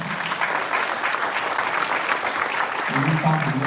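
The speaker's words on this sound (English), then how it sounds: "Give a round of applause." At a Cobb County Sheriff's Office event, an audience applauds a panel with steady, dense clapping throughout. A voice briefly rises over the applause near the end.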